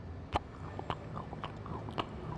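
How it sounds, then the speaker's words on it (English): Gum being chewed close up, with a handful of wet, sticky smacks and clicks at an uneven pace against a low background murmur. "You chewing gum?"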